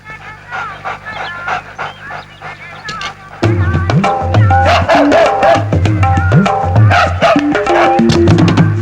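A dog in a Telugu movie scene makes short yips and whimpering, panting sounds close up, first under talk and then loud over a strong low musical score.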